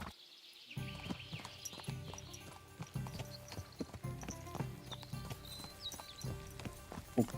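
Horse hooves clip-clopping in Kingdom Come Deliverance 2, a steady close rhythm of hoofbeats on a hard surface that starts abruptly after a brief silence and continues throughout.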